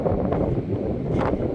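Strong wind buffets the microphone on an outdoor walk, a steady loud low rumble with gusting swells and rustling throughout.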